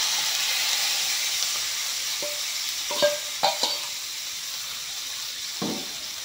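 Peas sizzle gently in a very old wok, a soft steady frying hiss with a few sharper pops and scrapes of stirring scattered through, fairly quiet and close, with no talking.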